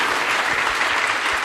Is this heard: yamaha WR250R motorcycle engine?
no